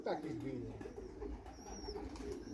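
Soft cooing of an old homing pigeon, low and throaty, with people talking nearby over a muffled outdoor background.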